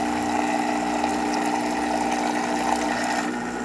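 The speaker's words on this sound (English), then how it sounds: "Nice steady shower coming out of the group head as well." A descaled Gaggia Classic espresso machine runs water through its group head, a steady pump hum under a continuous even rush of flowing water, close and constant throughout with no talking.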